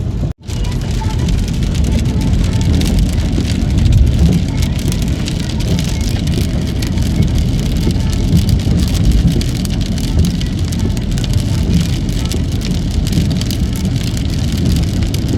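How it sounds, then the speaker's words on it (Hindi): Heavy rain pours steadily through the night, a dense, loud, unbroken hiss of drops on surfaces close by that runs throughout, with a brief sharp knock at the very start. "तो मैं आप लोगों को बैक कैमरा करके दिखाती हूँ कि कितनी बारिश हो रही है।"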